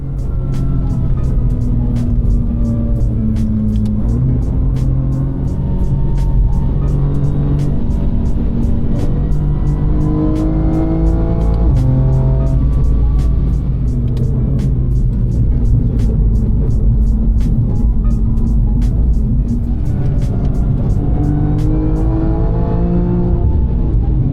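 A Schirmer M2 race car lapping the Nürburgring, heard from onboard as a loud, continuous engine drone that rises and falls through gear changes and accelerations for the whole stretch, with no talking.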